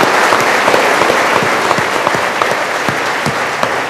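A studio audience at a television debate show applauds in a dense, steady burst, with a few sharper individual claps standing out from the sustained clapping.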